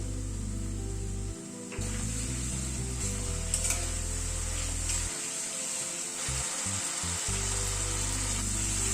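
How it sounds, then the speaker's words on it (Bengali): Spiced masala sautés in oil in a pan over a medium gas flame while cooking a thin pabda fish curry with potato and squash. A steady, close sizzle and fry runs throughout, with scraping stirs and faint clinks, and no one speaks. "গ্যাসের ফ্লেমটাকে মিডিয়ামে রেখে কষাচ্ছি আবার একটু কষানো হবে মশলাটা"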